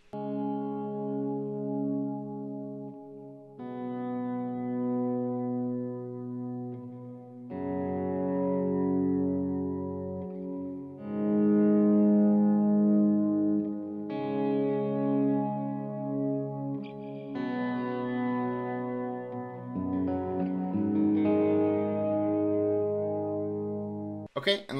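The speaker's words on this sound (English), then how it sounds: "And then let's look at the swell." A guitar plays through the swell effect of a Source Audio Collider pedal, sustained chords fading in smoothly one after another with soft attacks and lush, reverberant tails, alone without talk.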